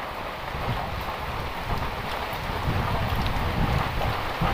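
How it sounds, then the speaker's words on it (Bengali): Steady, dense heavy rain roars with gusting wind in Alikadam, Bangladesh, a continuous broadband wash with low rumbling, close and loud throughout. "আসলে অনেক প্রচুর বৃষ্টি, যেমন বাতাস তেমন বৃষ্টি ভয়াবহ"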